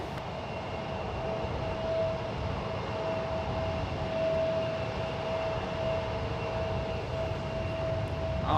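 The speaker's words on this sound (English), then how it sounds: "737 MAX 9, flight 2079, headed off to Boston." Boeing 737 MAX 9 airliner departing San Francisco International Airport for Boston: a steady, distant jet engine roar that holds a continuous broadband rumble with a thin sustained whine, no voices present.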